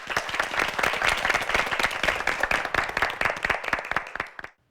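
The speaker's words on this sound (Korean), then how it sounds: "예, 박수로 맞이해 주십시오." Audience applause welcoming a student at a high school debate competition, a dense burst of many hands clapping together, steady and lively for several seconds before stopping abruptly.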